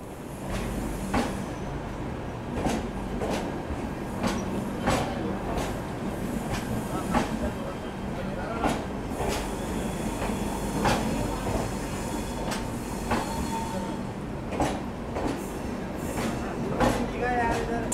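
The Mysore Shatabdi Express is at Bangalore City railway station, where rail clatter and rhythmic clicks mix with a busy platform hum while someone talks over it.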